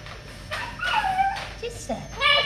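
A puppy whimpering and yipping in high, thin whines and short yelps, close by, with people talking over it.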